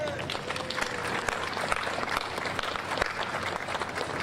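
Crowd applause at a Memorial Day ceremony, a dense continuous wash of many hands clapping from an outdoor audience, with a voice faintly audible underneath.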